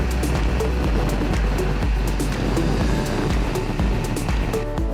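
A 2021 Ducati Panigale V2 motorcycle cruises at 100 km/h in sixth gear near Dubai. Dense wind roar is layered over a steady engine drone, loud and continuous with no speech.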